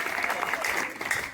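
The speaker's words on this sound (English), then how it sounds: "Clap for yourself." Secondary school students in an assembly applaud themselves, a full, lively burst of many hands clapping at once, with a few voices mixed faintly into the steady roar.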